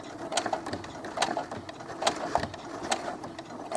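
A sewing machine runs steadily, stitching along a shoulder seam of doll clothes in a stitch-in-the-ditch pass, its needle tapping in a quick, even rhythm close by.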